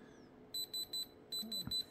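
Two quick runs of four high electronic beeps from a hardness tester testing a suspected carbonaceous chondrite meteorite, evenly spaced, with a short pause between the sets and faint background murmur.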